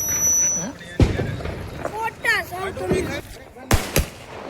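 Sharp bangs from a 50-shot firework cake go off at intervals at night, with whistling, squealing shots rising between them and voices talking underneath.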